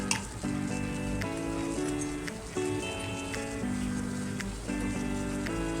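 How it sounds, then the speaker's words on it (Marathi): Steady sizzling and crackling from grated coconut roasting in a hot wok to dry its moisture continues throughout, with faint clinks and background tones layered over it. "कढई तापलेली आहे फक्त थोडंसं त्याच्यातलं मॉइश्चर जाण्यासाठी खोबरं भाजून घ्यायचं"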